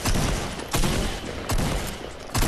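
Shotgun blasts in Fortnite, four loud broadband bursts spaced roughly 0.75 seconds apart over continuous game noise, close and harsh.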